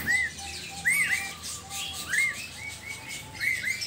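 Cucak Timor bird sings alone in a string of clear, rising whistled phrases that repeat every second or so, with softer chirps between them over a quiet background.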